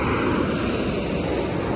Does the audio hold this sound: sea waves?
yes